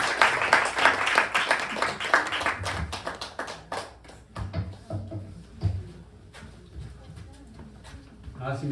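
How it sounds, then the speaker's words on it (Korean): An audience at a church winter retreat applauds to welcome Pastor Hwang Kyung-chul, with dense clapping that is loudest at first, then thins into scattered claps while voices talk. "박수로 받으시기 바랍니다."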